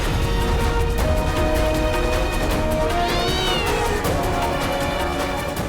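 A cat meows loudly and repeatedly up close in a domestic drama scene, drawn-out plaintive cries over a dense background of music and noise.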